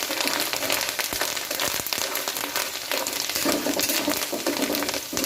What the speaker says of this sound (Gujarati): હવે આને આપણે સરસ સારી રીતના સાંતળી લઈએ